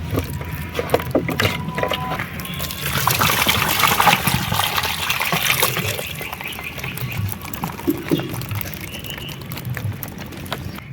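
Water trickles and pours steadily from a plastic bottle fish trap packed with live puti fish, a continuous close splashing flow that thins toward the end, with no talk over it.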